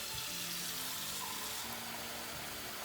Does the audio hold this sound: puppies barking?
no